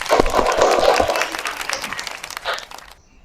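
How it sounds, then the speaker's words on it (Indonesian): Students in a classroom give a short burst of applause, a lively cluster of clapping hands that starts loud and fades out after about three seconds. "Tepuk tangan dong buat kita semua."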